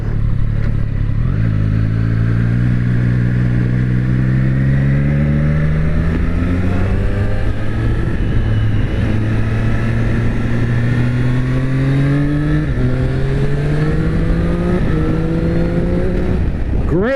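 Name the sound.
Triumph Street Triple RS 765 motorcycle accelerating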